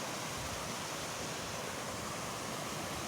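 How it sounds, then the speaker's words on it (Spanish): Mountain stream running down beside a 60 m waterfall in snowy winter terrain in Asturias, a steady broadband rush of water filling the scene without pause, close and even, with no voices. "Mirad, aquí baja un arroyo."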